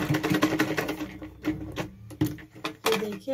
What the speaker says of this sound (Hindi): ऊपर चाहे तो आप एक बार ऊपर से सिलाई लगा सकते हैं ताकि ये यहाँ पर मजबूत हो जाए